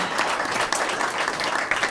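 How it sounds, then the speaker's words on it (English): An audience claps steadily and fairly loudly throughout, a dense even patter at a small business pitch competition. "let's give a round of applause."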